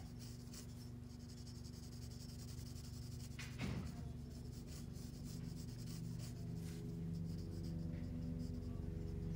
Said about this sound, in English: That's how I sketch eyes, and then the eyelid, and the eyebrow.